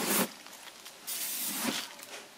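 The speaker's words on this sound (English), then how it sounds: "I'm going to spray it down with some oil." Short hissing bursts of an oil spray can misting tuna steaks, two or three quick close sprays separated by brief pauses, fairly quiet with no talking.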